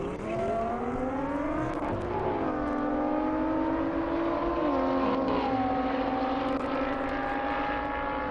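An Audi R8 and a Nissan GT-R race on an airstrip, with loud, sustained engine drones that rise, dip and climb again in pitch, heard from a moderate distance with no talk.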